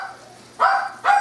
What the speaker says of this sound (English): there goes my dogs